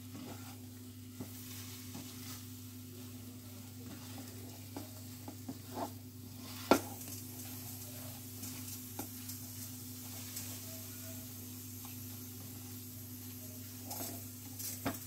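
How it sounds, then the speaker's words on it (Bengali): Lanka chop filling with black pepper stirred in a pan on a gas stove, with a faint sizzle and soft, scattered scraping strokes under a steady low hum. "এটাকে খুব ভালো করে নাড়াচাড়া করে নিয়ে একদম ঠান্ডা করে নিতে হবে।"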